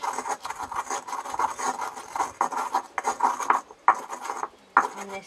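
Roasted pink garlic cloves are ground with salt in a stone molcajete, giving close, gritty rasping strokes in uneven bursts with short pauses and a sharp scrape toward the end.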